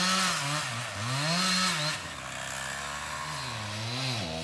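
Chainsaw cutting a tree stump for firewood, the engine loud and close, revving up and bogging down as the chain bites into the wood, with no voices.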